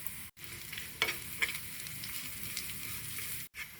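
Red onion, curry leaves and chili flakes tempering in hot oil, a steady crackling sizzle with a couple of sharp pops and stirring scrapes, briefly cut off near the start and end.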